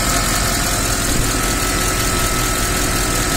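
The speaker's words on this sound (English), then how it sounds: "A little bit of valve train noise. Lifter's got to pump up." A reassembled 2007 Mercedes-Benz ML63 AMG engine idles steadily and loudly throughout, with light valve train clatter as the lifters pump up.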